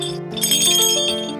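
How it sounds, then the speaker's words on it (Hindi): A small cow bell rings briefly several times, bright metallic dings close up with a shimmering ring that fades. "ये तुम्हारी यशोदा के लिए घंटी"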